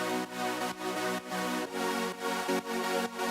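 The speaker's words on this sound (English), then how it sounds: "the second one is a bit more kind of super saw" A super saw synth chord with much of the top end cut off rings out in a steady series of sustained chords, warm and dense, changing every half second or so, sitting low with no voice over it.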